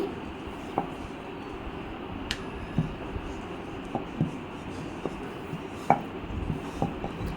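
Small puris are pressed out of puri dough in a home kitchen, heard as soft, irregular taps and thuds spaced about a second apart over a steady low background hiss.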